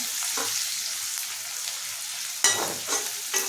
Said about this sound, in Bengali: শুকনো লঙ্কা, গোটা জিরা, আর দিয়ে তোমার গরম মশলা আর তেজপাতা আর পেঁয়াজটা একটু ভেজে নিই